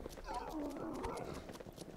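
Horse hooves clip-clop in the video game Sacred, a quick rhythmic patter of hoofbeats under someone speaking in German throughout.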